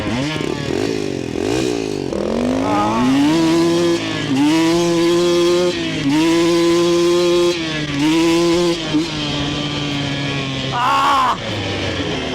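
Electric motorcycle drag race between a 20kW Valtinsu EM-5 and a Yozma on a lawn, a loud rising motor whine climbing in pitch through several surges, close and steady throughout.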